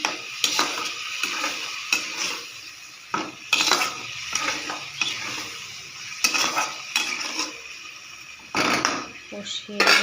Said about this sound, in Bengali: মালাই করে সব মশলা ঢেলে দিলাম, ঢেলে দিয়ে নাড়াচাড়া করে দিচ্ছি